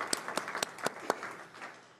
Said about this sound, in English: Let's give them another round of applause for a great presentation.